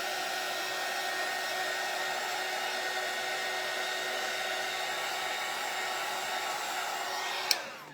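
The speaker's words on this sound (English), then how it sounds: "I need to really get this part dry." A hair dryer blows steadily and fairly close while drying stain on a wooden door hanger, then clicks off near the end.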